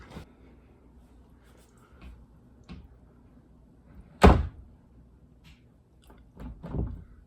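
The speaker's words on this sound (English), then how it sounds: "we're going to step back and close the door" A door swings shut with one sharp, close thud after faint shuffling, followed by a few softer knocks and a latch-like clunk; the door has just had its knob and screws replaced and adjusted.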